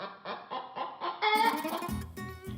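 Chickens cluck in a quick run of short, close, choppy calls, then a louder squawk breaks in partway through before more low clucking.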